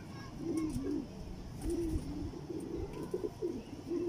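A pair of teddy pigeons coo in repeated soft, throaty phrases, close and fairly steady, with faint background noise and no talk.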